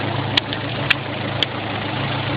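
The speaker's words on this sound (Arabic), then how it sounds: "وادي المحرك ده حضرتك داير اهو" An engine idles steadily during a pump test beside a large pump and condenser, a constant low hum with three faint brief clicks over it and no voices.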